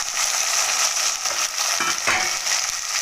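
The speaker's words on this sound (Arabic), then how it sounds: "هنقلب الفول شوية لغاية ما نخليه يستوي كده في الزيت، يفشر كده في الزيت." Fava beans fry in hot oil for a traditional Egyptian dish, a steady crackling sizzle with brief scraping and clinking as they are stirred in the pan.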